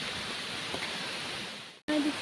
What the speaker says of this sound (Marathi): जो छोटासा धबधबा पडतोय ना